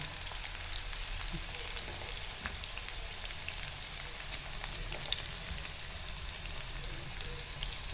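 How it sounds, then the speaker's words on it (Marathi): Fenugreek and potato bhaji frying in hot oil, a steady low crackling sizzle with occasional sharper pops, continuous and fairly faint. "इथे आता आपण भजीला फ्राय होऊन देऊया."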